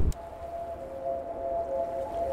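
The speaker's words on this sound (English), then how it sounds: "first is the crystals" A crystal sound from a Myst puzzle rings out after a short opening knock: a sustained, steady tonal hum that holds evenly, quiet and alone.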